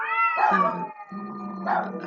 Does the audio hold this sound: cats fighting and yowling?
yes